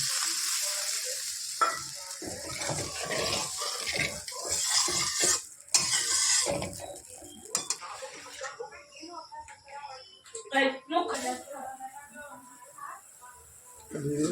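Water poured into frying spice paste for a pabda fish curry, with bursts of sizzling, spoon stirring and pan clatter, close and uneven, while a voice talks intermittently.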